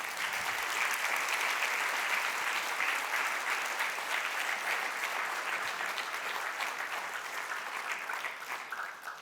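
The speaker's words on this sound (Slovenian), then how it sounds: "In prav tu izrekamo še en velik hvala, tudi z aplavzom." Sustained audience applause at a closing ceremony for the POPRI 2026 business-idea competition in Slovenia, a dense, steady wash of many hands clapping from start to finish, tapering slightly near the end.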